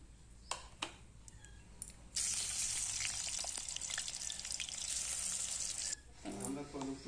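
Raw banana pieces fry loudly in hot oil, a dense continuous sizzle that starts abruptly after a few clinks and then drops off near the end, leaving faint stirring.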